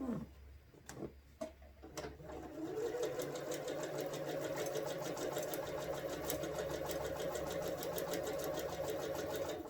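A sewing machine stitches quilt strips together for string piecing, starting with a few separate clunks and then running in a fast, steady mechanical rattle up close, with no talking.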